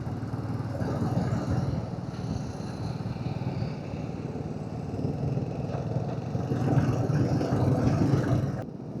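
A group of motorcycles rides in a line along a monsoon highway, giving a steady blended engine drone with rushing road and wind noise that swells slightly near the end, no clear talking.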